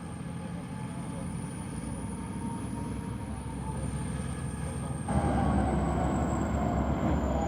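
Norfolk Southern and CSX freight trains rumble steadily through DeButts Yard in Chattanooga, a continuous heavy drone with a thin high wheel squeal running over it, getting a little louder near the end, no voices.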